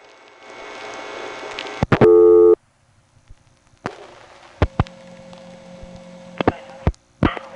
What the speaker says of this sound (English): The coin phones here are dial tone first in that you can dial 0 without a coin in the phone.